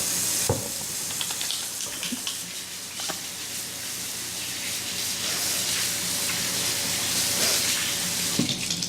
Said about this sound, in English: So first off, start by washing your hands.